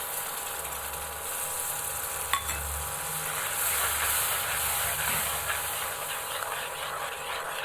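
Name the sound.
onion frying with ground garlic and chili paste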